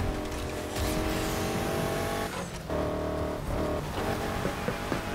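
A car engine in Need for Speed Heat roars steadily at high revs during a race. The revs shift briefly a couple of times, which fits a turbo boost and gear changes, with no talk.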